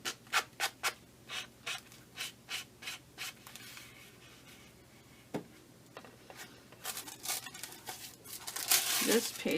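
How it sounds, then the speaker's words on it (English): A sanding sponge rubs the edges of altered book art journal pages in quick, rhythmic strokes, soft and close, followed by a pause and then denser, louder scrubbing. "I'm just going to hit the edges with the sanding sponge"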